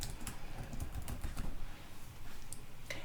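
Quiet keyboard typing as a meal name is entered, a run of soft rapid key clicks close by, fading to a few sparse taps, with no voices.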